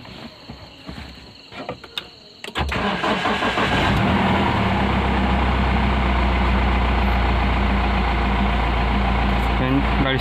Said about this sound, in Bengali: চলো গাড়িটাকে স্টার্ট করি।